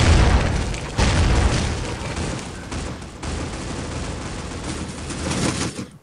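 Grenade blast and heavy gunfire from a Critical Ops match in an ESL semi-final, a loud boom near the start followed by a dense, continuous roar of shots and explosions lasting several seconds before cutting off.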